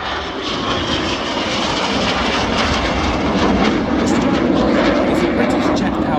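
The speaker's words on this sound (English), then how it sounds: "Our visitors from the right, ladies and gentlemen, the BAE Systems StrikeMaster" BAE Systems Strikemaster jet trainer and light attack aircraft flying past at the Ayr air show in Scotland, a loud, steady roaring engine that swells slightly as it passes, with a commentator talking over it.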